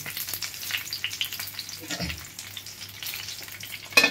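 Mola fish paturi parcels fry in a covered pan, crackling and sizzling steadily with sharp spatters popping up close and a brief louder burst near the end.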